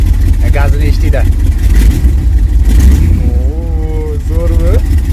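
A car engine drones loudly and steadily close by with its revs rising, while people talk over the engine noise throughout.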